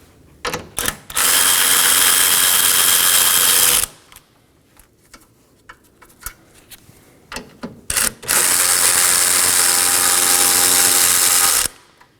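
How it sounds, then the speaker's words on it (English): A power tool whirs in two sustained, loud bursts with clicks and clanks between them while removing the four 10mm crossbar bolts on a 2018-2024 Chevrolet Equinox 1.5L during radiator replacement. "Now to remove our crossbar, we are going to find 4 10mm bolts, 2 on each side. Go ahead and remove those."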